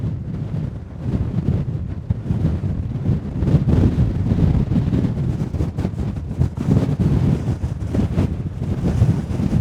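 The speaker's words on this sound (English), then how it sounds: "It's actually so windy, I've just got blown off my feet" Strong gusting wind on Ingleborough roars and buffets the microphone in loud, uneven bursts, with no other sounds standing out.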